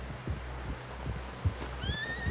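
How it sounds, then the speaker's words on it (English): A horse in Red Dead Redemption 2 whinnies in a rising, wavering call near the end, over soft clip-clopping hooves and a low, steady rumble. "Someone help John down off this horse"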